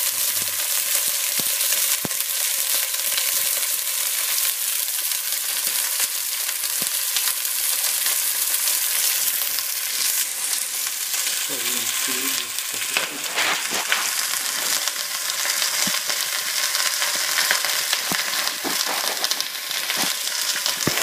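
Chicken pieces browning in a frying pan for a colombo-style chicken with potatoes, a loud continuous fat sizzle with crackles and a few pan scrapes partway through, no talking.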